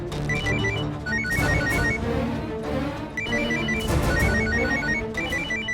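A phone rings with a repeating electronic ringtone melody, steady and fairly loud over a busy background of music and room sound.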